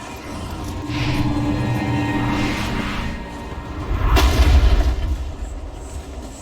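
Flashbang going off in the video game Alan Wake, a dull boom and rushing whoosh that swells and fades over a few seconds, with no talk over it.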